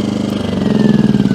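A Firman W01682 2000/1600 watt inverter portable generator running, a steady close mid-pitched engine drone with a slight pulsing flutter and no talk.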